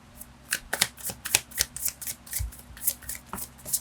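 Tarot cards riffled and shuffled in a steady run of crisp papery flicks and soft slaps, close and fairly loud, with no voices.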